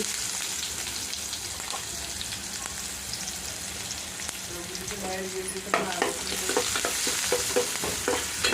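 Onions and garlic frying in oil with mustard seeds in a home kitchen pan, a constant sizzle that grows busier with scraping stirs and spatters in the second half.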